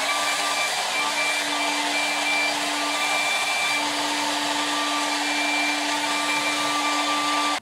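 Hair dryer blowing hair with a massaging brush, a loud steady whirring airflow with a constant motor whine running throughout, alone with no talk.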